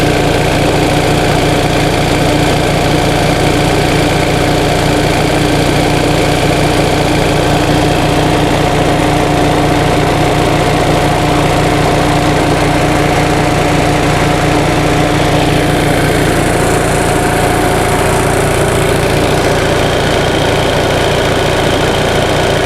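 A 1945 Onan thermosiphon-cooled generator engine runs steadily close by, a constant loud mechanical drone with a faint higher whine rising briefly near the end, no voices.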